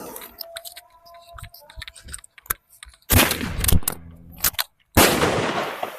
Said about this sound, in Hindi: अब इस 50 रुपये स्काई शॉट में आग लगाते हैं।